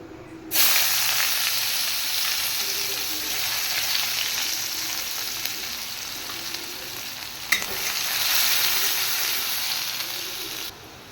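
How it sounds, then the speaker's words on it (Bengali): Chopped onions fry in oil with dried red chilies for a vegetable and egg curry, giving a steady, fairly loud sizzle and hiss throughout with a brief sharp clink in the middle. "পেঁয়াজটা হালকা হালকা লাল লাল হয়ে এসছে, বেশি ভাজা যাবে না"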